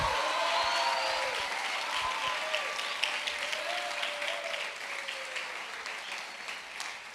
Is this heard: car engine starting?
no